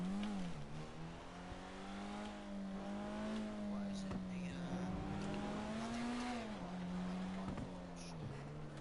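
A Vapid boy-racer hatchback resembling a Ford Escort idles and revs in GTA. The engine drones close and loud with a steady, buzzy tone whose pitch swells and dips with the throttle throughout.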